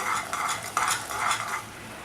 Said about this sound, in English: Now it is boiling well.